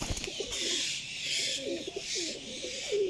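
A slate-grey, red-eyed pigeon coos softly and repeatedly in a rooftop loft, low murmuring calls rolling on steadily beneath a bright hiss of background chirping.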